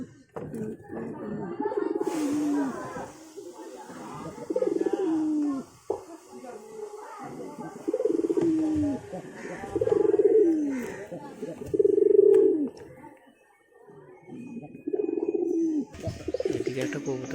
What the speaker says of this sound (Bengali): এদিকে একটা কবুতর আছে, দেখানো যাচ্ছে না